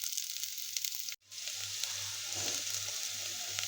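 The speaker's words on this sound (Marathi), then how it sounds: "कांदा टाकून घ्यायचा. चांगला भाजून घ्यायचा आहे." Sliced onion fries in hot oil in a pan, giving a steady, close sizzle that cuts out for a split second and then resumes at an even level.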